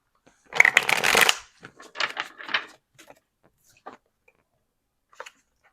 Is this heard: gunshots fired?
no